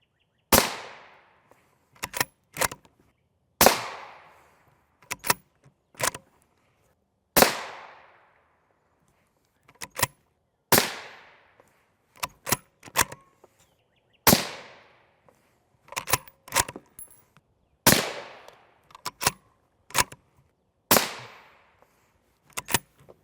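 Rifle rounds, including M855A1 ball ammunition, fired at a Level IV body armor plate: about two dozen sharp, loud shots in irregular groups of one to three, each with a short ringing decay, no talking.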